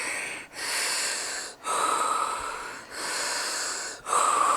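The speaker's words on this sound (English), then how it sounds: "It's just my normal breathing on the trail." Heavy, wheezy breathing of a hiker climbing steadily uphill on a humid trail up Mt. LeConte, with four long, loud breaths close to the microphone and short pauses between them.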